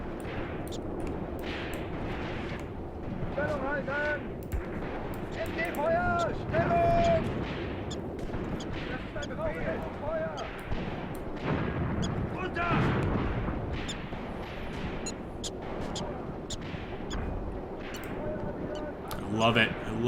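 Gunfire and artillery in the WW2 game Graviteam Tactics Mius Front, with rumbling distant blasts and scattered shots under near-continuous male speech, moderately loud.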